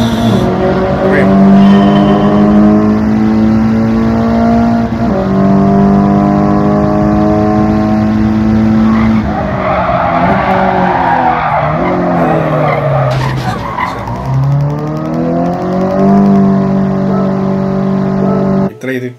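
Race car drifting in Gran Turismo 7 on PS5, with loud continuous tire skids and squeals over a droning engine that rises and dips through the slide, sustained for the whole stretch.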